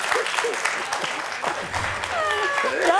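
Applause breaks out in the studio audience of a television comedy game show, with clapping rising and falling while voices talk and exclaim over it.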